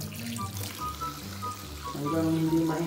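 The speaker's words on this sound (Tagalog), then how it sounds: "Ubusin yung tubig galing sa taas kasi ilinisan din yung taas." Water pours and splashes steadily out of a house water tank being emptied for cleaning, a continuous rushing flow that grows slightly louder toward the end.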